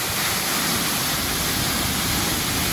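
A waterfall on the Bolok Chil river roars with a dense, continuous rush of falling water, loud and close, steady throughout with no voices.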